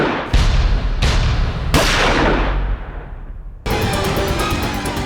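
Gunfire in a crime drama, several loud close shots with long ringing tails, followed by a dense rapid burst of shots in quick succession, no talk.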